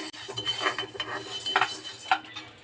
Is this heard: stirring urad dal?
yes